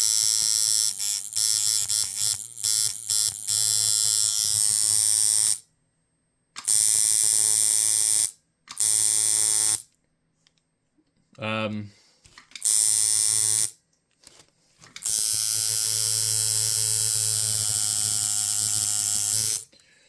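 A coil tattoo machine being tested with a lengthened stroke: a loud, steady electric buzz running in several bursts of a few seconds each, stopping and restarting with short silent gaps between them.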